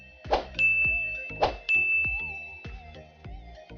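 A bright notification bell rings twice in quick succession near the start, then softer chime-like tones follow and ring out, clean with no talking.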